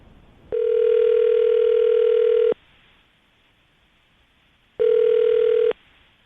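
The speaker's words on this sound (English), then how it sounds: "we're going to call her right now, see if we can get her on the phone" A telephone call goes through on a radio show line: a steady electronic ringback tone sounds for about two seconds, pauses, then sounds again more briefly, clear and alone.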